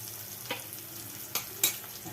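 Spices frying in a pan for a yam curry (oler dalna) with Kashmiri chili powder and garam masala, a faint low sizzle broken by a few sharp stirring scrapes.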